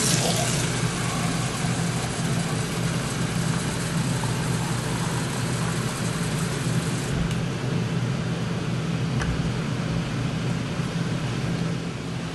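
Water runs steadily into the inside fresh-water tank of an RV, a continuous broadband rush with a low rumble underneath that holds level for the whole stretch, with no voices.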